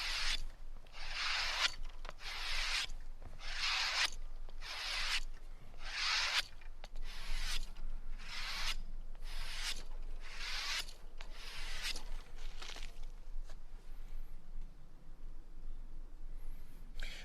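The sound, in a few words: knife being stropped on inside of a belt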